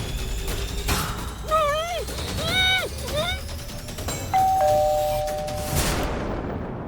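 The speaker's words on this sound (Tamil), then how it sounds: "என்ன காலிங் பெல் அடிச்சு கதவு திறக்க மாட்டாங்க?" A doorbell chimes twice in a home during a tense TV drama scene, a bright ding-dong tone sounding over room noise and scattered voices.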